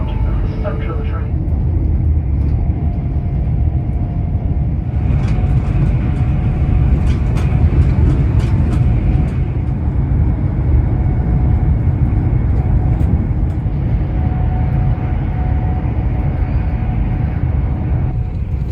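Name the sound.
GWR Pullman train running, heard from the dining car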